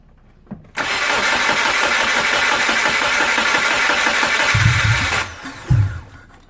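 Subaru Impreza with a flooding problem cranking hard for about four and a half seconds in a loud, continuous grinding churn that never catches, followed by a couple of low thumps.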